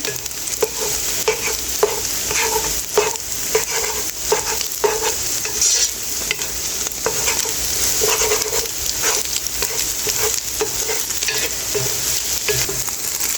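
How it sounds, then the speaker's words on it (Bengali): Six eggs being scrambled in a hot pan, with steady frying sizzle and repeated scraping and stirring clicks from a spatula throughout, close and fairly loud, no voices. "এখানে 6টা ডিমের স্ক্রাম্বল করে নিলাম।"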